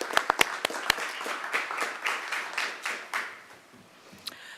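Applause at a city council meeting honouring employees' five years of service: a few sharp, separate claps open, then soft scattered clapping from the room thins and fades.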